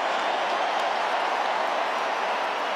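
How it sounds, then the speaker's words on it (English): Broad, sustained crowd applause fills a stadium as Richmond's Dusty Martin heads to the bench during the fourth quarter of the 2017 AFL preliminary final against GWS, a dense, even roar of clapping with no breaks. "Listen to this round of applause."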